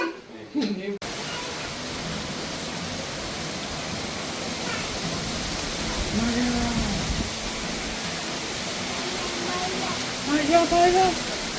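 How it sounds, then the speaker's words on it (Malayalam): Heavy rain pours in a dense, continuous rush that fills the background, with a few voices calling out faintly over it. "നല്ല മഴ, കാറ്റടിക്കണം."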